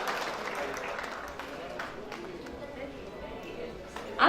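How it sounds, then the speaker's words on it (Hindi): Audience applause at a paint company's annual award ceremony, moderate clapping from a crowd heard somewhat distant, with a host's voice talking over it. "आपकी तालियों का साथ चाहिए सचिन जी"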